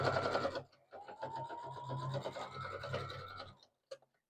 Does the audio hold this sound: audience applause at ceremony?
no